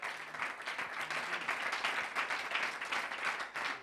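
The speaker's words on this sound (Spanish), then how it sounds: "Fuerte el aplauso para ellos." An audience applauds musicians at a live studio presentation of a compilation CD, a steady, fairly quiet wash of clapping that carries on throughout without speech.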